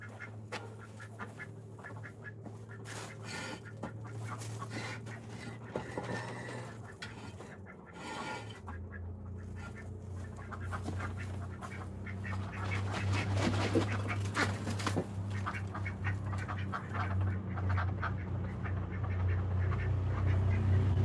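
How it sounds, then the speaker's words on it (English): Ducks quacking at a bunny sanctuary, a cluster of raspy quacks near and moderately loud over a low steady hum, with a dog whimpering briefly among them. "You guys see the ducks?"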